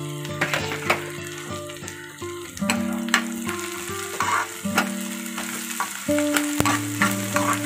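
Curry leaves dropped into hot oil for a bitter gourd curry, crackling and sizzling close up with clattering stirs, while steady tonal hums sit underneath, and no one speaks.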